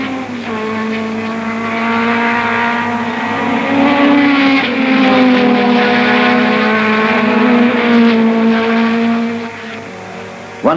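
A 1960s Cooper racing car driven by Jack Brabham at Clearways, heard as a loud sustained engine note rising and falling in pitch as it sweeps past on the circuit, with a short burst at the very end.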